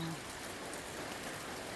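Summer rain falls in Kerala, a soft, continuous patter of drops on surfaces, steady and faint, with a hint of distant voices underneath.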